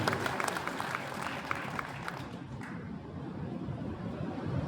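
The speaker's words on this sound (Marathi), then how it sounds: "आपणही टाळ्या वाजवू." An audience at a Mahatma Basaveshwar Jayanti celebration claps in steady, sustained applause, heard somewhat distant and fairly faint, continuing throughout without talk over it.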